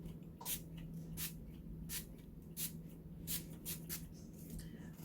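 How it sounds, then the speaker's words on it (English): A series of short airy spritzes from a spray bottle, about seven or eight quick hisses spaced unevenly, close by over a low steady hum. "I'm just going to lightly spritz my face."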